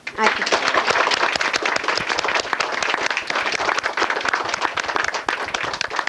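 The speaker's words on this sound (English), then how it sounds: "let's have some applause for everyone." Audience applause at a televised tae kwon do demonstration, dense continuous clapping filling the whole stretch, loud and close, with a voice faintly beneath.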